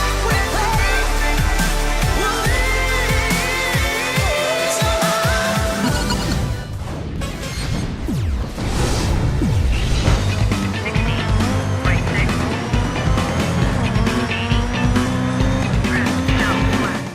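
Rally cars racing in the Dirt 3 video game, loud engines revving and roaring past through country roads and villages, with squealing tires and a brief crash-like burst midway, all continuous and close.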